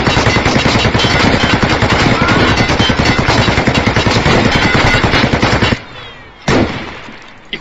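Sustained rapid automatic gunfire from the video game Escape from Tarkov, loud and dense for about six seconds, then cutting out abruptly with one last short burst and a faint click.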